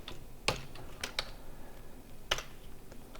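Keys on a computer keyboard are tapped in a few sharp, irregular clicks, fairly close and quiet, with no voices.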